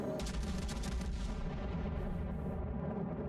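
Heavy naval gunfire from the battleship Fuso in the game World of Warships, a dense rolling barrage of loud booms and rumbling blasts filling the whole clip with no talk.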